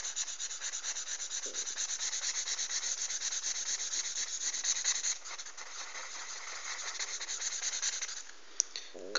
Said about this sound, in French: je vais tout simplement repasser au marqueur un trait, enfin plutôt colorier.